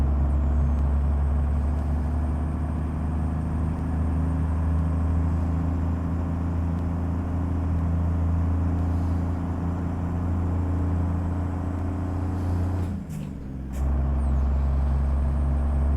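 A Kenworth W900A truck in American Truck Simulator drives with a steady, loud, low diesel drone throughout, briefly broken by a short hissing air burst near the end.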